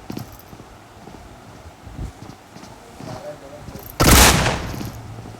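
A DBS double-barrel shotgun fires once in a competitive scrim match of a shooting game: a single loud, booming blast near the end. Before it come quieter game sounds and background talk.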